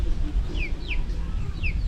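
Chickens and young chicks in a backyard flock, with several short bright chirps and clucks over a steady low rumble of outdoor background noise.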